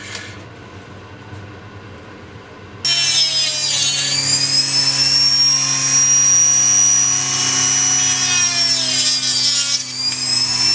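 A carbon Kevlar RX7 door handle is sanded flat with 120 grit. A quiet start gives way to a loud, steady whining power tool that runs continuously up close with slight changes in pitch.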